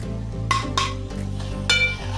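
A spoon scrapes and clinks against a metal pan while spices are stirred into methi rice, giving a few distinct close metallic knocks and scrapes over a steady low cooking hum, with no talking.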